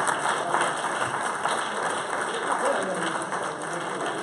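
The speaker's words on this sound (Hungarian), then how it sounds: "Taps!" Applause from the audience at a dubbing awards gala broadcast live, a dense continuous patter of clapping at steady loudness with a faint murmur of voices mixed in.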